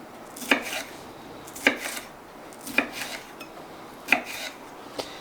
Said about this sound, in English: And just slice it into thin strips.